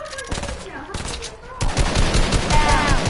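Rapid gunfire from a first-person video game shooter, several short bursts up close that build into a dense, sustained volley, with a voice talking over the shots.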